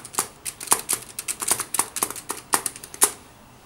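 An old typewriter-style receipt machine clacks as it is handled, giving a rapid, irregular run of sharp mechanical taps and snaps close by, with no talking.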